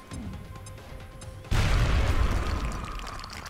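A frag grenade detonates in the strategy game XCOM: Enemy Unknown, a sudden loud single boom that breaks a quiet stretch and rolls off into a long, dense rumbling tail.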